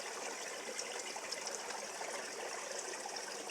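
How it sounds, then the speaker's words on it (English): Outdoors, a flowing stream runs in a soft, continuous rushing hiss that stays even and faint throughout, with no talk. "You hear that water flow?"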